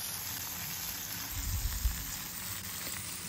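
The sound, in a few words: capsicum frying in hot oil in a kadai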